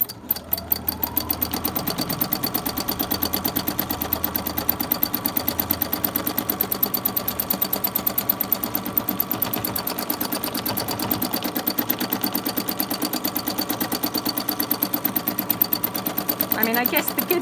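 A sewing machine runs free motion stitching on a vintage postcard project, a rapid, even needle clatter that carries on steadily up close while someone talks over it.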